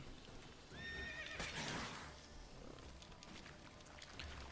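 Roach, a horse ridden in mounted combat in The Witcher 3, gives a loud, close neigh and whinny with a brief burst of hoof noise, set over steady ambient game hiss.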